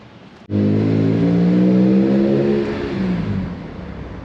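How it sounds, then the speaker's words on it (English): A BMW M3 fitted with a new exhaust fires up from cold, turning over and then settling into a loud, steady, deep idle that eases slightly toward the end. "So, hey Dan, why don't you start it up so we can do a cold start?"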